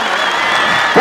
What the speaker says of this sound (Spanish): Venga el aplauso, señoras y señores